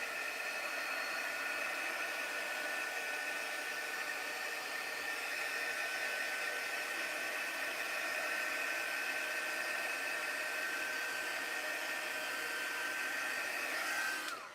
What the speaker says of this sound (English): Let me just shoot it with my heating tool.